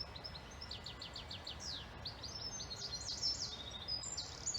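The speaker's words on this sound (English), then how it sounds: "You can hear lots of birds singing. There's goldfinches." Several birds, including goldfinches, sing in a spring hedgerow, with a quick run of repeated chirps followed by overlapping high twitters and trills, fairly faint over a soft outdoor background.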